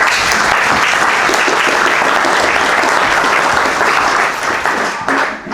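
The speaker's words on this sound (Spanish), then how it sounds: "Un aplauso, por favor." Audience at a space telescope astronomy lecture hosted by the Agrupación Astronómica de Cantabria bursts into sustained, loud, dense applause that holds steady, then thins and fades over the final second.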